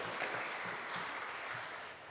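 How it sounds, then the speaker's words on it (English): Sustained applause from a career expo audience thanking a panel, a steady broadband patter of clapping hands that holds for a couple of seconds, fairly distant and even, tapering slightly at the end. "Round of applause, please."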